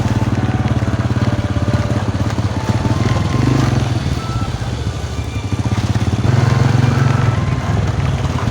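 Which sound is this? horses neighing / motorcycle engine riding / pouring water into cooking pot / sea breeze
motorcycle engine riding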